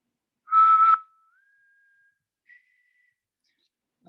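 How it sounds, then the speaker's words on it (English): A single short human whistle, clear and close, followed by a faint thin tone and silence. "If I whistle"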